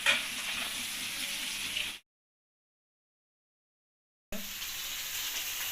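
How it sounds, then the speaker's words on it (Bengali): Fish sizzling in hot oil in a home kitchen, a steady broadband crackle that cuts out into silence for about two seconds and then resumes, close and even. "এই মাছগুলো ভাজতেছি"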